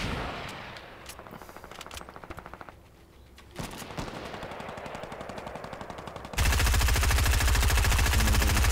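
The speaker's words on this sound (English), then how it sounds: "I got like four different people shooting at me" Rapid automatic gunfire from several players in a Fortnite 50 vs 50 match, a steady rattle of shots that jumps to a much louder, dense barrage near the end, with no talk over it.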